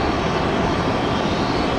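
Broadband roar of jet airliner engines at Tampa airport, loud and steady with no break, no voices.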